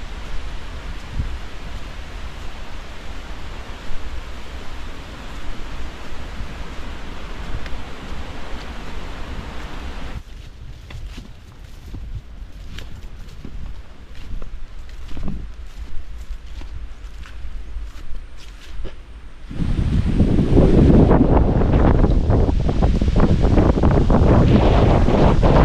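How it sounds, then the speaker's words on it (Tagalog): Strong wind buffets the microphone outdoors in open grassland where carabao graze, a steady roaring rush that dips to gustier, patchier noise midway before surging back louder and heavier, with no talk. "Lakas yung hangin, no?"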